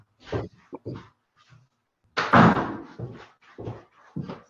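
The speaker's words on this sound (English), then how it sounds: "let me close my door" A door in a home office closes with a single solid thump in the middle, set between short bursts of nearby talking.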